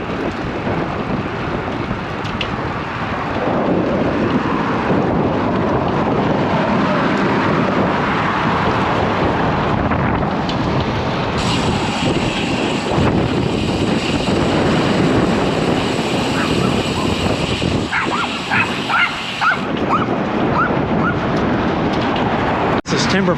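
Strong gusty headwind of about 22 mph with 33 mph gusts roaring steadily across a cyclist's microphone on a suburban road, a loud broadband rush that holds throughout with brief dips.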